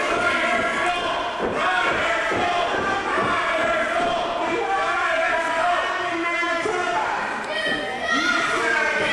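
Loud wrestling crowd at a Big West event roaring and chanting in reaction to Vance Nevada, a continuous wall of cheers and jeers with thumps from the ring.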